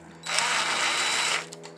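A power drill runs in reverse, backing a screw out of plastic on a school bus window latch, a close, steady whine of about a second with a brief ramp up and a quick stop.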